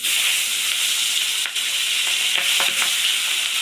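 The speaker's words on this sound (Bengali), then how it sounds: "মাছটা ফোটে এই একটু টুকটুক টুকটুক করে ফুটবে" Pabda fish frying in hot oil for a Bengali mustard curry, a loud steady sizzle and hiss with occasional stirring scrapes and small pops, no voices.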